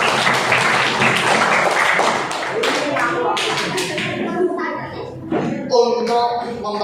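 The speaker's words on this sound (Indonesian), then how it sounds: "Beri tepuk tangan buat semuanya." Classroom of students clapping together for everyone, a dense burst of hand claps that thins into scattered claps, with voices of children mixed in throughout.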